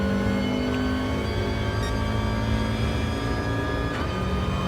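Race car engine in a GT racing game, held at steady high revs with a brief lift and downshift blip, loud and continuous throughout with no talk.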